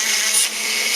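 Sandpaper rubbing a Fiat 850 Weber carburetor part gives a steady, close, hissing scrape that runs the whole second with only a slight dip midway.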